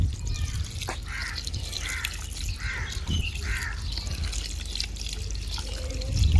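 Two litres of water pour into a large pot of mutton with lemons for dum pukht, giving a continuous splashing trickle with dripping, gurgling bursts. It is moderately close, with background noise underneath.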